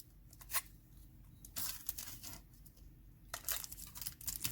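A piece of polymer clay is cut on parchment in several short, close scraping and crinkling bursts separated by quiet gaps, faint and without talking.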